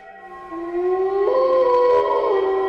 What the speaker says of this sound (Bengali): হঠাৎ শিয়ালের ডাকে রনির ঘুম ভেঙে যায়